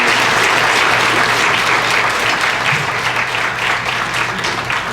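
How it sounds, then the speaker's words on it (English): An audience at a classical Indian dance debut recital gives a loud, sustained round of applause, dense clapping from many hands that stays steady across the whole stretch without voices. "they deserve a round of applause from all of you."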